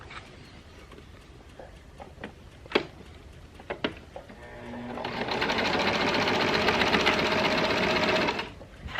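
A sewing machine stitching skirt fabric runs in a steady whirring burst after a few clicks and taps of handling the cloth, close and clear.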